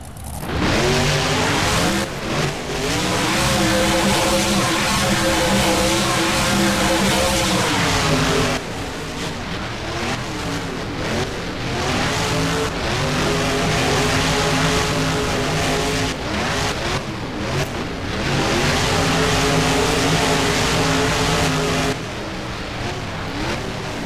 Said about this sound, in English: both trucks are making the next turn, so that way they can finish this first lap